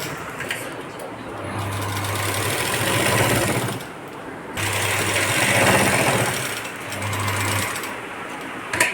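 Sewing machine stitching a quarter-inch seam along a Paithani silk blouse piece, running in steady bursts with a continuous motor hum and rapid needle chatter, pausing briefly between passes, close and fairly loud.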